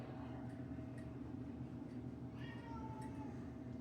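A domestic cat in a home kitchen gives a few faint, short meows partway through, over a quiet, steady room hum.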